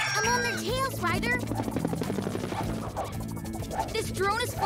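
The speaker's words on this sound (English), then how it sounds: "This drone is flying too wildly to catch." A cartoon drone flies wildly in a rescue scene, a steady helicopter-like buzz running under lively music and talking voices throughout.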